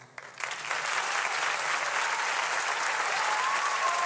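Applause from a TV studio audience builds quickly after a brief quiet start, then holds as a dense, steady wash of clapping with no voices over it.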